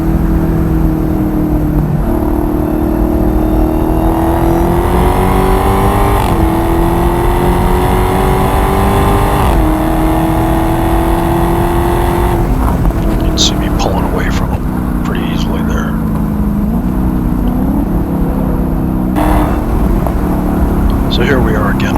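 Dodge Hellcat and Corvette racing on a track, with engine drone rising and falling through shifts as someone talks over it, plus wind rush and a few sharp clicks.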